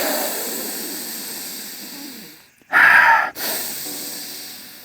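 A person takes one deep, loud inhale through the nose, sniffing freshly dug wild silver found while metal detecting in Australia. The breath is brief and close, rising sharply out of steady background noise, with no talking.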